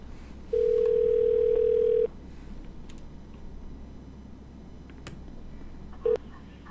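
A phone call dialed in GTA roleplay: a sustained dial tone for about a second and a half, then a quiet stretch with faint clicks and a brief short beep near the end, no speech.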